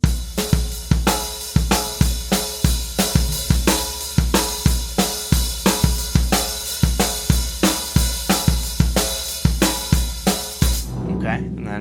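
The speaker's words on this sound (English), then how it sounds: "Very basically what you're doing is you're just adding in 1/8 notes on the hi-hat." A drum kit plays a groove at a slowed tempo, bass drum and snare with steady eighth notes on the hi-hat, loud and close in an even repeating rhythm, ending with a cymbal ringing out.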